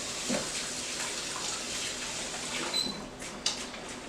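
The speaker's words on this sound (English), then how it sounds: "I gotta wash my hands down." Tap water runs steadily into a sink while hands are washed in a home kitchen during meatloaf patty prep, a continuous broadband splash with a couple of brief clinks near the end.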